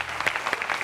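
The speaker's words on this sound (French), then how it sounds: "Et je pense que c'est à applaudir, s'il vous plaît." Audience applause at a music talk show: a short burst of dense clapping at moderate volume.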